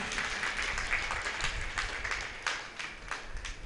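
An audience at a Jain religious discourse claps for itself, a loud, continuous crowd applause with sharp individual claps standing out, sustained evenly throughout without speech.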